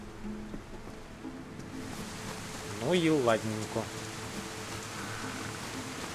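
Steady rain in the DayZ video game, an even hiss of falling water that fills the whole stretch while someone speaks briefly in the middle.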